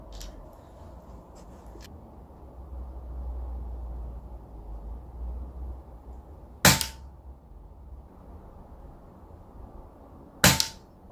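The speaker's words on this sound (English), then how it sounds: "I'll take another shot so I can see a point of impact." Two sharp air rifle pellet shots, each a single crisp crack with a quick decay, well separated by quiet outdoor background.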